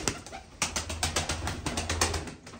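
Pigeons in a coop flap their wings in rapid, close bursts of clattering beats, with soft cooing underneath throughout.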